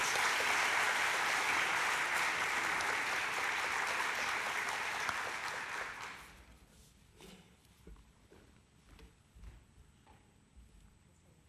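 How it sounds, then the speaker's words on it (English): An audience applauds to welcome a speaker, Carlos Ghosn, onto the stage at a leadership talk, a loud sustained round of clapping that fades out after about six seconds into quiet room noise. "Let's give a round of applause to Mr. Carlos Ghosn"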